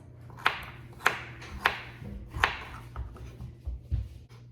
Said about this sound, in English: I'm just dicing up these baby carrots